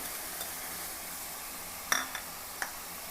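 Crushed garlic drops into a pan of hot oil with a faint steady sizzle, then a sharp metallic scrape of the spoon and a second lighter clink as it is stirred.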